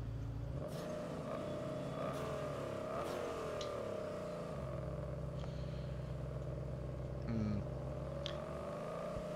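A sports car engine in the video game Test Drive Unlimited: Solar Crown hums and revs, rising and falling as it shifts through gears, loud and steady throughout.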